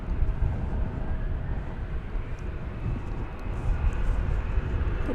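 A Cessna 525B Citation CJ3+ business jet at DFW Airport produces a steady, broad engine roar that stays loud and constant throughout, heard from a moderate distance with no voices.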